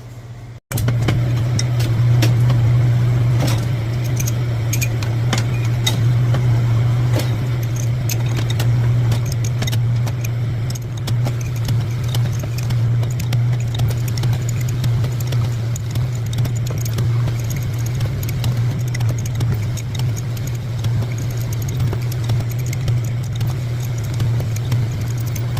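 A machine hones one side of a connecting rod cap with a steady, loud mechanical hum and dense clicking and scraping that runs continuously for about twenty-five seconds after an abrupt start.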